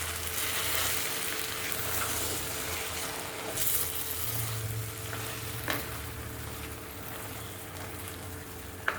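Kappa fish biriyani is gently stirred in a pan after the stove is switched off: a quiet, steady sizzle with occasional soft scrapes and taps of the spoon.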